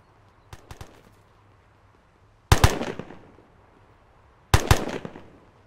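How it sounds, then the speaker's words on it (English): Distant gunfire in a military video game: a few faint pops come first, then two louder double-crack bursts arrive about two seconds apart, each trailing off in a short echo, with no voices. "Shots from northeast"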